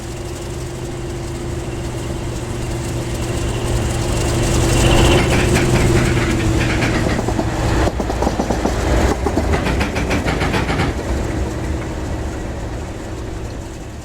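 Railhead treatment train 2304 runs on the rails on its return from Seaforth toward Newington Harbour, a steady rumble with a droning engine tone, swelling as it draws near and clattering over the track through the middle, then easing slightly.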